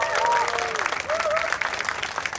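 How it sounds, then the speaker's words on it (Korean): Audience clapping at a street arts festival in Seoul during a rockabilly and swing band set, steady applause for about two seconds with faint tonal whistles or cheers riding over it. "여러분 다시 한번 큰 박수"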